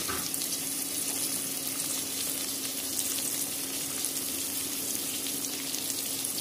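Capsicum, carrot and potato sizzle steadily in hot oil with onion and paste for a millet (varagu) vegetable biryani, a close, continuous frying hiss with no talk.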